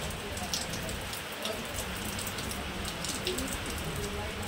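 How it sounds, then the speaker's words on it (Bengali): Steady, dense rain falls during a storm, a constant close hiss of drops striking surfaces with no breaks and no clear voices. "বৃষ্টি দেখছে, বৃষ্টি।"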